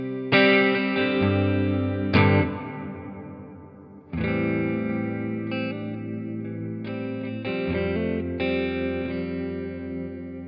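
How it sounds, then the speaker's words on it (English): Sustained electric guitar chords through a Line 6 POD Go dynamic hall reverb ring out wide and lush, each strum washing into a long, smooth decay. "And I like the dynamic hall. This is just the reverb."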